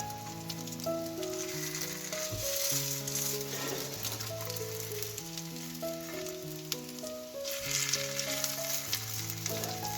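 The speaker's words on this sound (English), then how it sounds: "Let's flip the cutlets once it's brown on one side." Chicken cutlets fry in a pan with a steady, rain-like crackling sizzle that swells slightly toward the end, under continuous background music and no talk.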